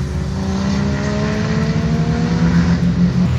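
Race cars lapping during a track day at Indianapolis Motor Speedway, a continuous droning engine roar with a rising and shifting pitch as cars pass, loud and steady, with no talk.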